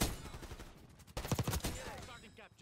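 Rapid bursts of gunfire ring out in a Black Ops 6 gunfight, with a C9 submachine gun in play, a dense cluster of shots midway through over game noise and background sounds.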